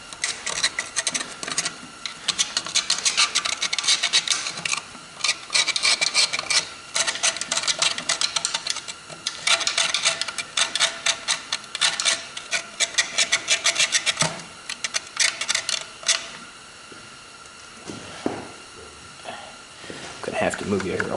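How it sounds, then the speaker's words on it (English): Hand scraping inside the water jacket of a 1939 Caterpillar generator set engine, rapid rasping strokes in a steady rhythm that pause near the end, with intermittent talk. "getting my hand in there to do a little bit of extra scraping is not really that difficult"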